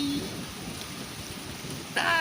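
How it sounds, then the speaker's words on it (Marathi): Steady rain hisses throughout in Karjat, with low rumbling thunder underneath; a brief burst of louder noise comes near the end. "पाऊस आलेला आहे लिटरली, ढगांचा गडगडाट होते, गडगडाट होऊन पाऊस येतोय."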